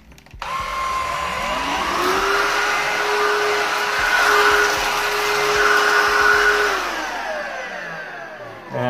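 i-vac X10 stick vacuum cleaner switching on, its motor pitch rising, then running loud and close while sucking up breadcrumbs before winding down near the end, no talking.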